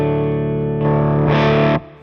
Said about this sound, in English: This is my bridge pickup.